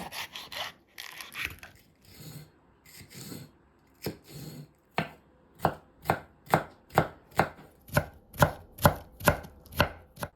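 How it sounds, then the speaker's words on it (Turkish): A knife chops green peppers finely on a board, starting with a few scattered cuts and settling into a fast, even run of crisp close knocks. "Yeşil biberlerimizi de ince ince doğruyoruz."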